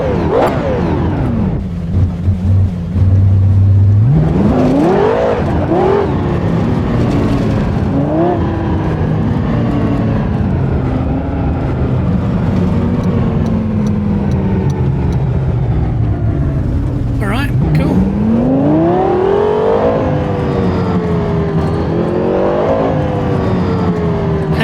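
A Lexus LFA's engine revs hard with traction control off, a loud, continuous high-pitched wail that sweeps up through the gears, eases, then climbs again near the end.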